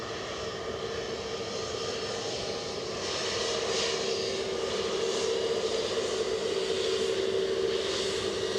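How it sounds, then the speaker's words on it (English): EasyJet airliner racing along the runway during its takeoff run, a steady broadband jet roar heard from a distance that swells and grows louder partway through, with no voices. "Tell you what, the EasyJet is racing along."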